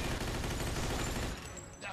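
Rapid machine-gun fire rattles in a dense, loud burst during a Mafia 2 shootout, then cuts off abruptly into quieter background noise.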